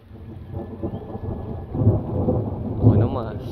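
Steady rain patters over low rumbling, with a heavier roll of thunder building near the end.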